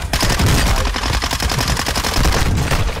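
Automatic weapon fire in the shooter game Warzone 2: a loud, rapid, continuous burst of shots, close and sustained throughout with only brief dips in intensity.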